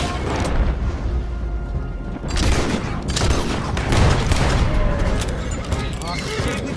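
Dense, continuous gunfire from a shootout in the video game Red Dead Redemption 2 during a roadblock escape, with overlapping shots and booms at steady loudness throughout. Voices can be heard under the firing.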